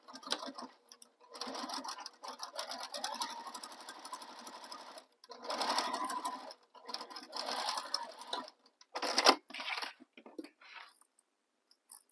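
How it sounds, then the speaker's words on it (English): A sewing machine top-stitches along the edge of a tote bag in several bursts of fast stitching separated by short quiet pauses, heard up close with no speech. "we're going to top stitch down this edge here using the seam allowance given in the pattern"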